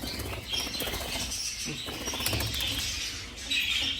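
Quick bursts of bird wings flapping, close by, with a few faint chirps in a busy, noisy indoor space.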